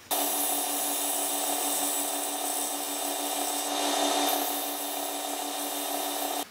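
A wooden spinning top is sanded while turning on a woodworking lathe, giving a continuous, fairly loud abrasive hiss over the motor's whir that starts and stops abruptly.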